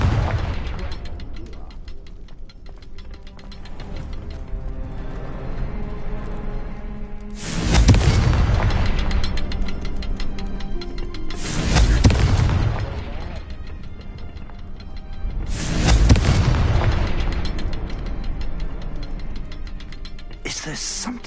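Confringo fire spells explode in the Hogwarts Legacy video game, four loud booming blasts spaced several seconds apart over a steady mechanical, ratcheting game soundscape.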